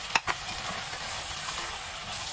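Chicken frying in a pan for a paella, a steady soft sizzle with a couple of sharp stirring clicks near the start.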